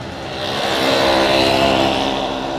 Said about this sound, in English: That was the bicycle with like a little gas motor on it